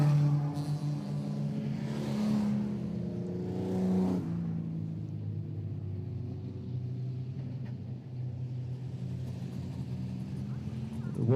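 Production saloon race cars at Ashburton speedway rumble steadily throughout, engines droning with a couple of brief revving surges early on, heard from a moderate distance in an open-air track setting.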